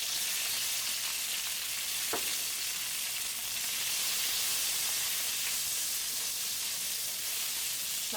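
Red capsicum and onions sauté in oil in a wok or frying pan, giving a loud, even, continuous sizzle and hiss with one brief clink from stirring, and no talking.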